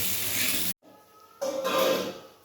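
Fish pieces rubbed with turmeric and salt sizzle in hot oil, a loud steady frying hiss that drops out briefly and then returns just as strong.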